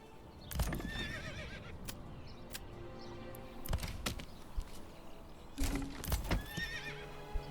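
Horses in the medieval village-building game Manor Lords whinny loudly twice with hooves clip-clopping in between, over steady game ambience and occasional faint birdsong, with no talking.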